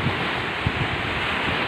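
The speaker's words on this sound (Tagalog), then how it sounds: "Laki ng alon." Big ocean waves at Atimonan, Quezon, heard as a steady broadband wash of surf blended with wind noise on the microphone, with a few low thumps of breaking water and no talk.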